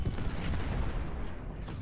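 Cannon artillery in the Civil War strategy game Ultimate General: Civil War rumbles as a dull, muffled boom that decays into a low roar over about two seconds, fairly quiet overall.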